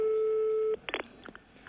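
A steady telephone tone holds for under a second and then cuts off, followed by brief clicks and faint handset noises on the line.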